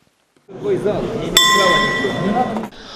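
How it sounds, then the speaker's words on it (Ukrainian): A single bright boxing ring gong strike rings out and sustains, ringing over a murmuring crowd and a commentator's voice at a boxing match. "Удару гонг і на поєдинок виходять боксери."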